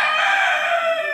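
A rooster crows in one loud, sustained call that fills the whole moment, close and clear with no talk over it.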